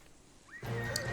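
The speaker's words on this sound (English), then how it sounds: "Level 140 female horse, all tamed up perfectly, using the carrots" A tamed level 140 female horse in the video game ARK Ascended gives a short, rising whinny that swells into a loud, close neigh lasting about half a second.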